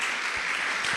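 Congregation at a church service applauding, a steady wash of many hands clapping throughout, fairly loud and even with no talk over it.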